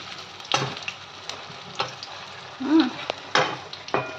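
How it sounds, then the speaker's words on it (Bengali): Red lentil paste and mustard paste frying in a little oil, a soft low sizzle punctuated by several sharp spatula scrapes and taps against the pan. "এখন এই দুটো মিলিয়ে একটুখানি তেলের মধ্যে ভেজে নেবো"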